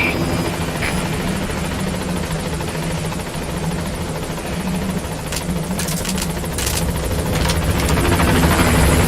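In the video game Metal Gear Solid V: The Phantom Pain, the Pequod helicopter approaches a landing zone with a loud, continuous rotor thrum and engine drone that grows stronger toward the end.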